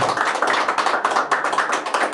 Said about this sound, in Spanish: A ver muchachos, ese aplauso.